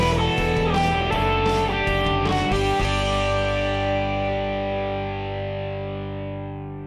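An electric guitar plays an 80s style clean tone through delay, a few quick notes and chords ringing out and then repeating in echoes that fade slowly over several seconds, with no voices.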